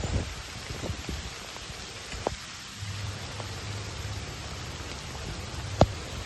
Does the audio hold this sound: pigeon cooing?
no